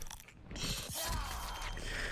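Crunchy, crackling tooth-breaking effect from the Mortal Kombat fighting game, a dense grinding crunch with ratchet-like texture lasting about two seconds, loud and close, with no talk over it.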